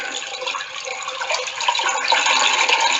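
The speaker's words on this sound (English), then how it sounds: "Did your documentary, James, have a comedy toilet flush?" A comedy toilet flush sound effect plays, a steady rushing gush of water that swells slightly louder toward the end, with no voices.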